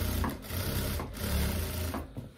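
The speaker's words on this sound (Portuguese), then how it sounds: "eu vou virar esse recorte pra cima e vou fazer um pesponto bem aqui" Sewing machine topstitching a seam on wide-leg trousers, a steady motor whir with rhythmic needle clatter and brief pauses.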